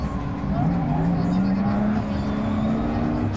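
A low-slung race car in Gran Turismo, heard from the in-car view with only drive and brake, gives a steady, loud engine drone whose pitch climbs slowly and smoothly as it accelerates.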